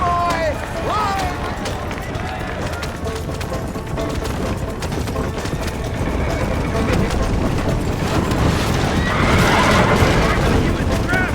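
Horse neighing during a stagecoach cart race in the Western video game Red Dead Redemption, whinnies rising over continuous galloping hooves, rumbling wheels and game music, with a shout partway through.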